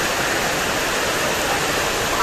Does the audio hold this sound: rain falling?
yes